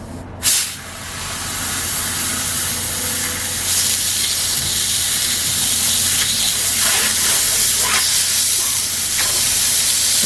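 A steamer used to loosen re-glued wooden joints hisses loudly and continuously after a brief initial burst, a steady close rush with small fluctuations throughout.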